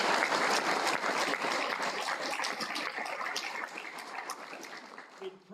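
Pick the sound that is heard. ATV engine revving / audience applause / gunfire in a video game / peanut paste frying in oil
audience applause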